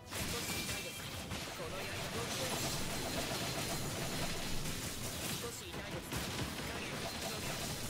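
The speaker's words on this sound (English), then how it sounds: "Nice, so many explosions." Dense, continuous crackling explosions and electric bursts from the video game BlazBlue Entropy Effect during a lightning combo, loud and layered without a break.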